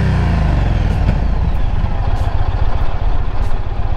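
Yamaha Stratoliner Deluxe motorcycle engine turning over at low RPM, a loud, close, lumpy idle with uneven rhythmic pulsing and slight clatter, heard alone.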